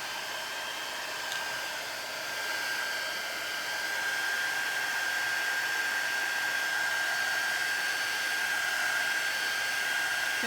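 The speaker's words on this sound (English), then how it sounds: "I'm going to try my heat gun and see if I can warm it up." A heat gun blows on handmade paper to dry it, a steady, loud whooshing fan roar with a high whine held evenly and close for the whole stretch, no talk.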